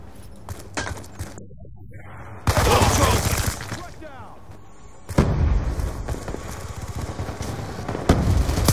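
Gunfire from an M27 rifle in Call of Duty Black Ops 2 team deathmatch on Xbox 360, with loud, dense bursts of rapid shots breaking in twice over a quieter game background.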